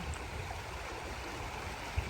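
Steady broadband rush of a flowing mountain river, continuous and fairly close, with no voices.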